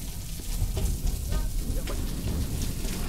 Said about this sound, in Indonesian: ini kelihatannya hujan agak lama